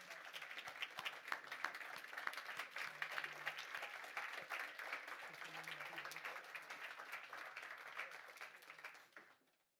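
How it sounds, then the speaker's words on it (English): Applause for the speakers at a public health institutes session, a sustained, fairly quiet patter of many hands with a faint voice murmuring underneath, ending abruptly near the close. "Let's give them an applause."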